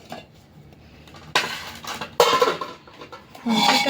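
Metal kitchen utensils and pots clatter and clink in a home kitchen while someone rummages for a spatula beside a wok, with loud bursts of rattling between quieter handling.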